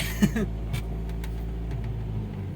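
An old 1980 Ford Fiesta, parked for months, idles with a steady low rumble that holds level throughout, with a brief louder knock near the start and faint clicks over it.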